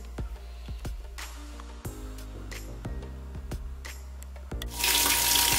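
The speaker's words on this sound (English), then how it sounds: "So I am filling this up with water again" Water runs from a tap into a sink with a few sharp knocks and clinks, and the rush of water grows louder near the end.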